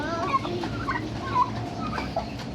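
Farm fowl near goats cluck and gobble in short overlapping calls under steady low background noise, several birds sounding close by.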